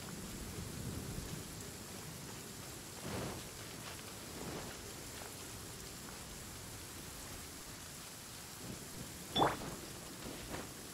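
Steady rain hisses throughout in the video game Genshin Impact, with a few soft low rumbles of distant thunder and an occasional sharper crackle; no one speaks.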